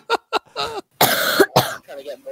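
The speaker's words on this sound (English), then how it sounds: "Stop coughing." Several sharp coughs in quick succession, close and fairly loud, from a person on a casual online video chat, mixed with brief vocal sounds.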